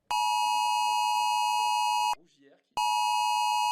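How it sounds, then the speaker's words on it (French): A loud, piercing FR-Alert emergency phone alert tone sounds continuously, breaks off briefly while a voice speaks, then resumes; talk is also heard faintly beneath the steady tone. "Si vous voulez avoir un petit aperçu de à quoi ressemble une alerte FR Alert, on va vous montrer juste la vidéo."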